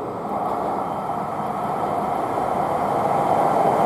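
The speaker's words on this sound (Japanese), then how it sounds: "11番線に新青森行き早手100号が到着いたします。" A Hokkaido Shinkansen Hayate train pulls into Shin-Hakodate-Hokuto station at night, a steady, loud rolling rumble and rushing hum that swells slightly as it arrives, with no voices.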